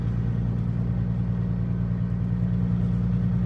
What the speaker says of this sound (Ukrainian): І будете ви тепер чути двигун, як працює